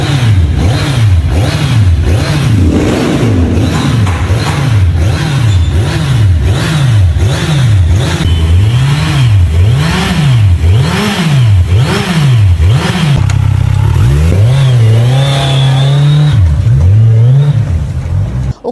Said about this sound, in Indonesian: dengan suara merdu karena menggunakan 4 silinder